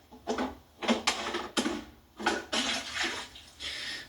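Water poured into a container in a series of short gushes, each a few splashy bursts followed by brief pauses, close and fairly quiet, with no voices.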